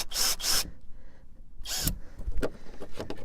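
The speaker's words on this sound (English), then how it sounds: "I'm just going to drill" Short bursts of a power drill whir near the microphone drilling a marker hole in a caravan for a marker light, two quick pulses, a pause, then a longer burst followed by scraping and knocking.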